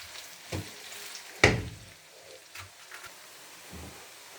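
Onions frying in a pan for malai bhindi give a low, steady sizzle, with a few soft stirring clacks and no talking.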